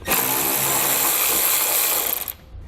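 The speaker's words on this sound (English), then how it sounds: "we'll grab that 10mm socket and an extension and pull it out." A 10mm socket on an extension spins out a bolt during a trailer hitch install on a 2018 Mercedes-Benz GLC-Class: a loud, close, continuous mechanical whir for about two seconds that cuts off abruptly.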